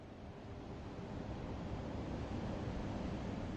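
A steady, dense rush of wind-like noise swells slightly and holds, a continuous roaring ambience with no voices or distinct events.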